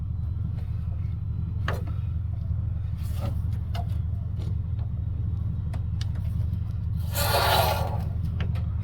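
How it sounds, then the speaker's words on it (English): Pressure escaping through the drain valve of a water heater, a short hissing rush near the end that stands out over a constant low mechanical rumble. "That's the sound of our pressure releasing."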